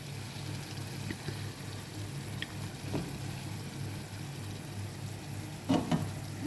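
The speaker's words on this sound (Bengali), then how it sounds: "মশলাটা কষানো হয়ে গেছে" Spice masala frying and being stirred in a pan, a steady close sizzle with occasional scraping stirs and a louder clatter near the end, no voices.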